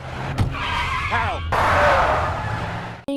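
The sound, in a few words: car driving fast and skidding, from a movie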